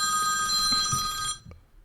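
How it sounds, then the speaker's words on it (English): Old-school telephone bell ringtone during a police association podcast, a loud continuous metallic ring that cuts off abruptly, followed by a brief faint knock. "that was an old school ringtone"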